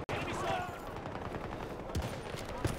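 Rapid bursts of gunfire in Battlefield 2042 crackle in quick succession, with sharp sniper shots standing out amid a busy background.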